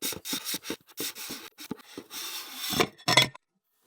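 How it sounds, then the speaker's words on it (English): Rubbing and scraping come in quick bursts as someone unscrews the focuser of an astrophotography refractor telescope. The grinding sounds are close and fairly loud, with short pauses between them and no talk. "So now what you actually have to do is you have to unscrew the focuser."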